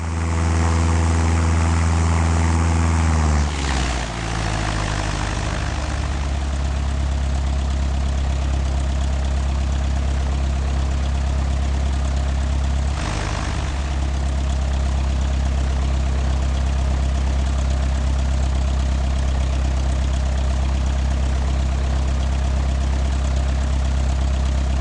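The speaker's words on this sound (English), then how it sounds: "To begin the descent, reduce the power to idle." Propeller aircraft engine idling at low power during a descent in the FlyWings 2026 flight simulator game, a steady loud drone with a brief dip and shift in tone early on, continuous and alone with no talk.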